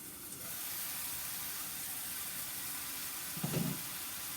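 Tomato cooks in olive oil in a pan on high heat, making a steady soft sizzle and hiss throughout with a brief louder crackle near the end.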